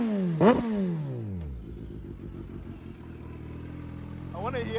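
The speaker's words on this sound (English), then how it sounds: "I'm gonna try and get him to rev it for us because it has a supercharger." A supercharged Kawasaki Ninja ZH2 motorcycle engine revs sharply once, then settles into a steady, throbbing idle nearby, with a second short rev at the end.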